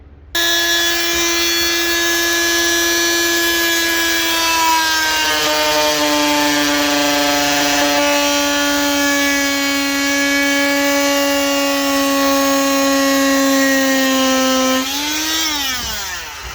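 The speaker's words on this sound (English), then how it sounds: "So the Dremel, the little sonic cutter, is probably your best bet on that one" Dremel rotary cutter whines at a high, steady pitch while slicing into a plastic tail light housing, continuous and close for about fifteen seconds before spinning down at the end.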